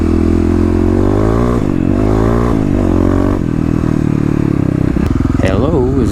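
An EFI Kawasaki KLX351 dirt bike revs hard and rides close and loud, its engine note rising and falling through repeated throttle blips, with a voice talking over it.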